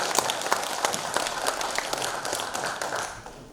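An audience claps at the 58th founding anniversary celebration of the Jeongeup Cultural Center. A short burst of steady, moderately loud applause fills the room, with no speech.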